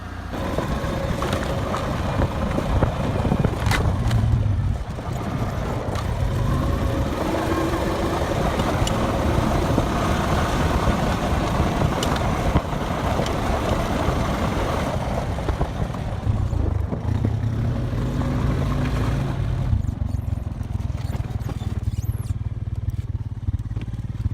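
A quad bike engine runs steadily throughout, a continuous loud drone of revving and idling with rattling clatter, close up on a hillside where bees are being moved to the heather.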